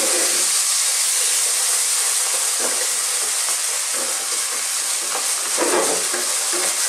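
Thick cooking cream with garlic and sage bubbling in a hot pan, a steady loud hiss and sizzle running throughout with a few soft stirring clinks.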